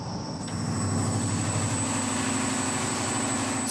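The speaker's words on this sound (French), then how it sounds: "Ce puissant moteur est alimenté au gaz de ville." Powerful town-gas-fuelled engine heating water for a greenhouse tomato operation, a steady loud droning hum with constant mechanical whine, heard close and alone throughout.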